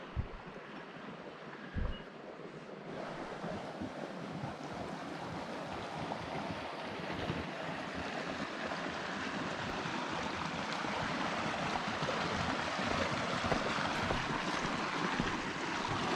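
Small river rapids rush past a campground bridge at Villanueva State Park, New Mexico, a steady broadband wash of flowing water that grows slightly louder and fuller, with light wind buffeting and a couple of soft knocks early on.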